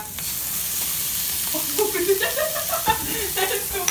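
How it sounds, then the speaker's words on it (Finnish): Crushed tomato sizzling in a frying pan, a steady close hiss of frying with light stirring and clinks rising toward the end, no one speaking. "Tomaattimurskaa on pannulla."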